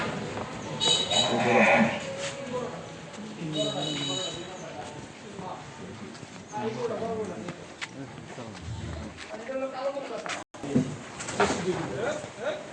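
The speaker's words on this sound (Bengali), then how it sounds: "সবগুলোই দেশি গরু" Local breed cattle, including large red and white animals, at a farm or market, with moos and lowing heard under steady conversation between several people close by.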